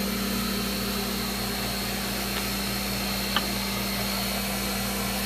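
Boat engine room machinery drones steadily at close range, a continuous low hum with a pulsing rhythmic throb and a few faint clicks, with no voices.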